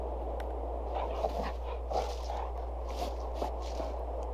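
A pet dog in a farming video game moves about, its soft pattering steps and small whimpers over a steady low hum, with no talk.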